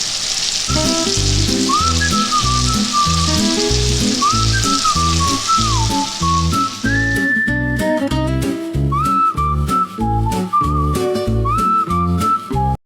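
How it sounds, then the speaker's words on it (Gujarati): Crushed ginger, garlic and green chillies sauté in hot oil for a masala corn dish, giving a loud continuous sizzle and crackle close up, with whistling pressure-cooker-like tones and rhythmic clatter running underneath. "ત્યારબાદ ક્રશ કરેલું આદું, લસણ અને લીલા મરચાંને ઉમેરીને લસણ હળવું ગોલ્ડન બ્રાઉન થાય ત્યાં સુધી સાંતળી લઈએ"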